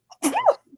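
A single sharp human sneeze, close and loud, with a faint breath just before it, heard during a college football podcast discussion.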